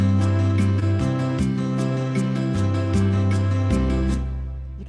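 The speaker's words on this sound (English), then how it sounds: "You can hear that guitar strumming" An acoustic guitar sound played on a keyboard strums a steady bossa nova pattern at 75 bpm, with rhythmic chord changes and clicky attacks, loud and clear before fading out at the end.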